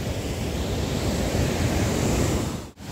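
Rushing water pours steadily out at Bhatinda Falls near Dhanbad, Jharkhand, a dense, continuous roar filling the air close by, briefly dipping near the end.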